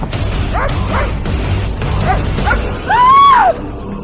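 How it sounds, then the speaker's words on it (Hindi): A dog gives several sharp barks and yips in quick succession, then a drawn-out whining howl, loud and close in an indoor room. "सुचित उस बॉक्स से भौंकता हुआ कमरे के बाहर भाग गया।"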